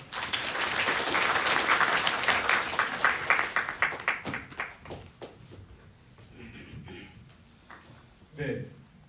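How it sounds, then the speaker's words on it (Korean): An audience at a lecture on Jeju's carbon neutrality applauds loudly; the dense clapping holds for a few seconds, then thins into scattered claps and fades out, with a few brief voices near the end. "열정적인 강의를 해주신 대표님께 다시 한번 큰 박수 부탁드립니다."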